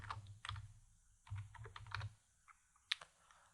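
Password being typed on a computer keyboard in quiet, irregular bursts of soft key clicks, close and faint, with short pauses between groups of strokes.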